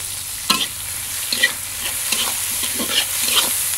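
Onions frying in oil while being stirred, a constant sizzle under several scraping spatula strokes at irregular intervals, close by and with no talk.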